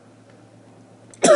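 After a quiet low hum, a single sudden loud cough bursts out close to the microphone.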